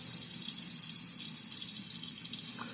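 Tap water runs steadily into a sink while a shaving brush is rinsed clean, a close, constant hiss and splash with no voices.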